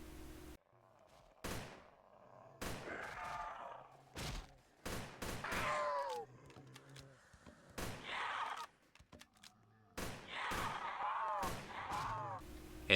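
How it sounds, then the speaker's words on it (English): AN94 Abakan rifle in the Roblox game Project Lazarus, old version, fires several rapid bursts of sharp shots with ringing tails, spaced by short pauses, loud and close. "Moving on to the AN94 Abakan, where Logitech increased the fire rate to be closer to the real-life hyperburst."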